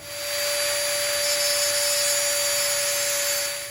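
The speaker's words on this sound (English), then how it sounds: "I'm gonna snip this off and then I'm gonna trim it with the Dremel" A Dremel rotary tool trims a homemade whirly jig fishing lure, giving a loud, steady high-pitched whine that runs unbroken for several seconds with no talking.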